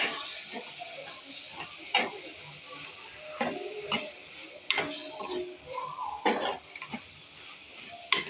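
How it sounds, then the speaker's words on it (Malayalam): Chopped tomatoes being stirred into a sizzling Telangana-style mutton curry, with soft frying hiss broken by repeated scraping stirs and clinks of a spoon against the pot, close and fairly quiet. "2 തക്കാളി കണ്ടിച്ച് വെച്ചിട്ടുണ്ട്, അതും കൂടി ഇട്ട് കൊടുക്കുകയാണ്. ഇളക്കി കൊടുക്കാം."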